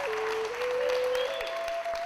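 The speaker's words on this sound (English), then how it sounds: "as the delegates applauded the drafting committee" Conference delegates applaud as a steady wash of clapping from a crowd, moderately distant and fairly faint, with a thin tone running through it and no clear talk.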